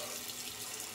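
Water running steadily from a tap while a face is rinsed, a soft continuous hiss and splash, fairly quiet and close, with no talking.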